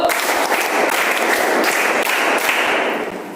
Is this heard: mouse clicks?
no